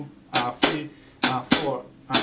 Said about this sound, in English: play a nice and straight shuffle rhythm on the hi-hat